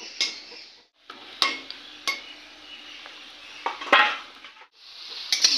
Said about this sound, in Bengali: ভাজাটা একটু সময় নিয়ে ভাজতে হবে